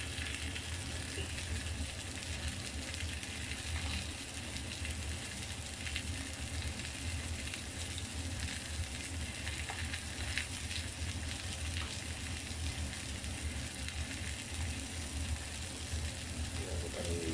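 Ham frying in oil in a pan for a simple ham, potato and carrot dish: a steady, dense sizzle that holds at an even level throughout, with a faint voice now and then.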